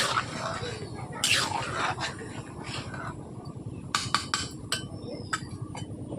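A spoon scrapes and clinks against a cooking pot while stirring simmering chana masala, with scattered sharp metallic taps over a low bubbling background, and a voice talks in between.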